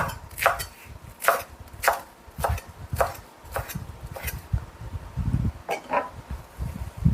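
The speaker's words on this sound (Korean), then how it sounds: "깻잎도 약간 돌돌 말아서 썰어 주시면 간편합니다." A knife slicing rolled perilla leaves on a cutting board, crisp evenly spaced chops about twice a second, close and clear over soft handling noise.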